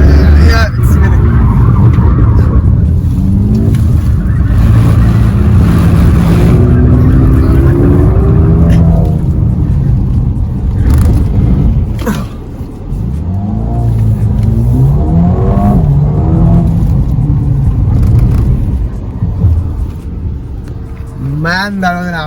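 A Mercedes-Benz car is driven fast and spun, its engine revving and roaring loudly in rising and falling surges while people talk and exclaim over it.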